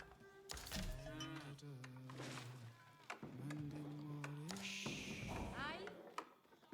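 Cattle moo in a strategy video game, with several drawn-out, low calls rising and falling, fairly quiet, under a voice talking over the game.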